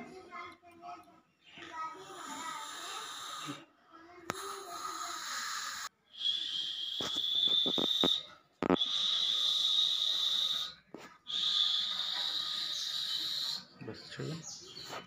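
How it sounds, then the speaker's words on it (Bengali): A person with Bell's palsy facial paralysis blows air out through the mouth in three sustained, breathy gusts, each lasting a couple of seconds, after some quiet talking close by. "মুখে ফু দিন"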